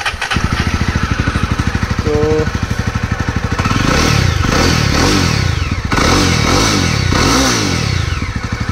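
Jawa 42 motorcycle, a 2022 model, revving hard with rapid throttle blips over a fast clattering idle, loud and close, with a brief voice at the start.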